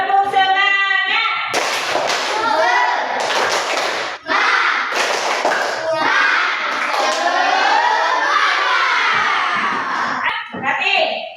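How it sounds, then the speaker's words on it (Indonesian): Schoolchildren in a classroom perform a rhythmic spirit clap, with bursts of clapping alongside loud chanted children's voices. "Tepuk semangat"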